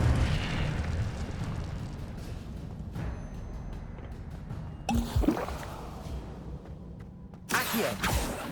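Incendio fire spell cast in Hogwarts Legacy, a loud whooshing burst near the middle followed by a second sharp blast, over steady low game ambience with shuffling movement.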